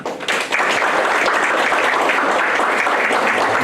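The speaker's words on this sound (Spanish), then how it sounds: "Vamos a recibir con un fuerte aplauso a nuestro invitado expositor" Audience applause at a legal conference, a sudden swell of dense clapping from a seated crowd that holds steady and loud throughout.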